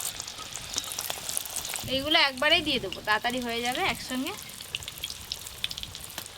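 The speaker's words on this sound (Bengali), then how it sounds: "এই আঁচে আমি খাজাগুলো ভাজছি।" Khaja pastries fry in oil over a low flame, giving a steady soft sizzle with occasional pops. Someone speaks briefly midway over the frying.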